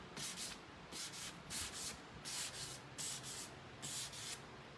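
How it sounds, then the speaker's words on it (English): A 220-grit sanding block rubs back and forth over painted wood in steady, even strokes, a dry rasping rhythm, close and fairly quiet. "Just using a 220 sanding block."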